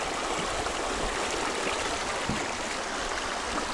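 A clear mountain stream near Marble, Colorado runs in a close, constant rushing babble that stays loud and even throughout, with no voices over it.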